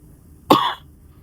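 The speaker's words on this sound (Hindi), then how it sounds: "खांसी आ गई इस गल से।" A single short cough, close and clear, against a quiet background.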